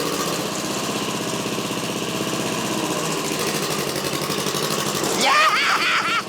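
A small diesel of about 11 or 12 horsepower, swapped into a riding mower and blowing black smoke, runs steadily with a loud, rough, chugging drone, joined near the end by a rising higher whine.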